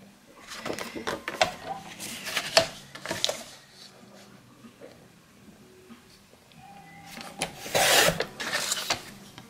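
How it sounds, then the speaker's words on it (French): Paper being trimmed on a guillotine cutter for a handmade album, a series of faint, close scraping and rasping strokes in short bursts, with a louder sliding cut near the end and quiet pauses between. "On va découper, alors au massicot hein, ce sera plus droit"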